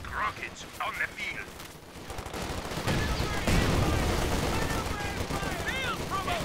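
Rifle fire from infantry squads in Company of Heroes 2, with Cavalry Riflemen shooting on the move against Volksgrenadiers. Dense, continuous crackling volleys build steadily and stay loud, with a voice talking over them.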